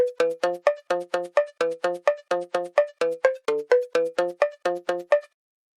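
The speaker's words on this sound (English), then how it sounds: "And with the arpeggiator, sounds like this." Bright synth notes bounce through an arpeggiator in fast, evenly spaced repeating patterns, a clean plucky sequence of about two dozen short notes that stops abruptly.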